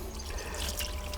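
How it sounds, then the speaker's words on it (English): Surplus water trickles and drains through potted tomato plants after watering from the top, a soft, steady liquid dribble heard close up with no talking. "I can water them through the top like that, and then any surplus water will drain through"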